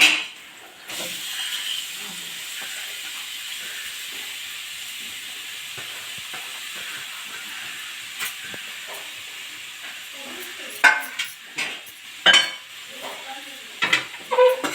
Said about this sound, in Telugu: బీట్రూట్ వేసుకున్న తర్వాత ఇలా మంచిగా కలిపేసుకోవాలి